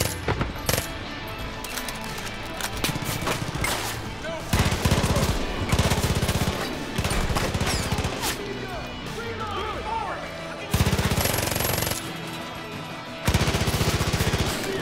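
Gunfire in the video game Far Cry 5: repeated bursts of rapid shots, loud and close, broken by brief pauses amid dense game noise and voices.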